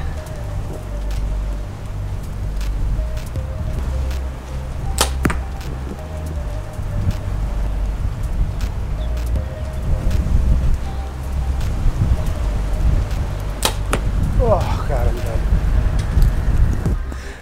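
Wind blowing outdoors at an archery range, a steady rushing roar with gusty low-end buffeting across the mic, and a couple of sharp clicks and knocks over it.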